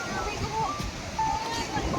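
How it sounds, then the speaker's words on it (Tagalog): Strong surf breaking at Bagasbas beach makes a steady, broad wash of noise, with people talking over it. "Malakas ang alon."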